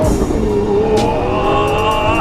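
A Lamborghini Aventador S accelerates hard, its loud engine note climbing steadily in pitch, close and continuous with no talking.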